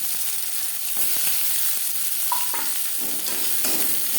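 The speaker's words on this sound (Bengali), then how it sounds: "কড়াইতে আবারও তেল দিয়েছি দিয়ে দেবো পেঁয়াজ কুচি" Chopped onion fries in oil in a wok with a continuous close sizzle, joined by a few soft spatula stirs and scrapes, no voices.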